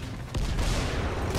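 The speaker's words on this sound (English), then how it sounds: "Shotgun." A heavy shotgun blast goes off in Dying Light during a zombie fight, a sudden loud boom followed by a dense rumbling tail that stays loud, with no talking over it.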